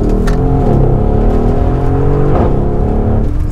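A Mercedes-AMG GLE 63 S with a 580 hp engine accelerates hard, its engine note rising steadily in pitch and staying loud and continuous from inside the car.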